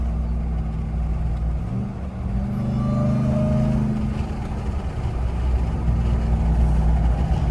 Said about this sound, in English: there's a supercharger under the hood of this truck